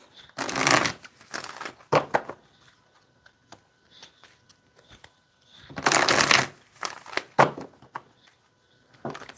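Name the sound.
oracle cards being shuffled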